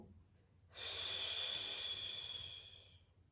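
Deep, steady breathing during a postpartum recovery exercise, one long breath rising and holding for about two seconds, close to the microphone with no talking.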